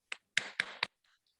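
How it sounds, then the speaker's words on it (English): Four sharp, isolated hand claps land close together, then stop, a small burst of applause for a presenter at an online conference. "So let us give applause to Prof. Sulistiono."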